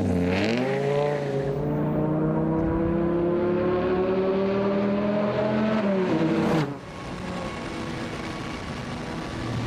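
A tuned Dodge Viper engine cranks and fires, then revs loudly with a rising, throaty drone close by before dropping back to a rough idle.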